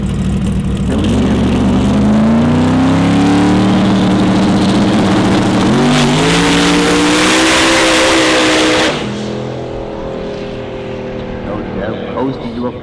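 A small block twin turbo drag racing car roars through a pass at Toronto Motorsports Park, its engine loud and climbing in pitch before fading away as it coasts, with an announcer speaking over it.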